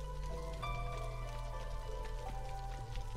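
Steady rain hiss from a video game storm, close and constant, with sustained tonal game music or ambience layered over it and no pauses for the whole stretch.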